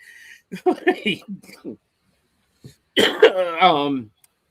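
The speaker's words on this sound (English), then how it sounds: "Still a little bit of a cough" A person speaks briefly, then after a pause gives a rough cough followed by a harsh throat-clearing sound, close by.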